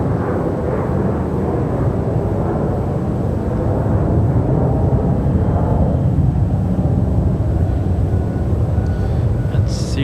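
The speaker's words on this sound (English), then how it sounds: "That's CRJ you heard departing there" An Endeavor Air CRJ regional jet departs from Raleigh Durham International, filling the scene with a loud, sustained low roar that holds steady throughout. A faint high hiss comes in near the end.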